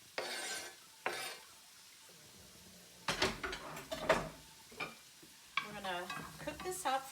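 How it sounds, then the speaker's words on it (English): Garlic, chopped sage and chopped shallots hit a hot oiled pan, sudden bursts of loud close sizzling with utensil scrapes and stirring clatter between quieter pauses. "We're going to add our garlic and chopped sage and our chopped shallots as well."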